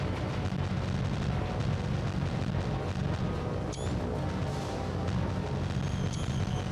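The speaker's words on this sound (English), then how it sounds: "Oh, they're level bombing" Bombs from level bombers burst around a warship in War on the Sea's Iron Bottom Sound, a dense, continuous rumble of blasts and crashing impacts with a couple of sharp higher streaks, loud and steady throughout.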